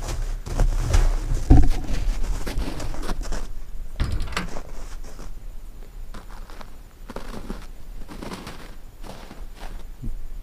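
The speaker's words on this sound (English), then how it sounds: "Close the door." Door being slid and pulled shut outdoors at a rural property, a series of heavy thumps and knocks with scraping, then a quieter stretch with scattered footsteps and clunks.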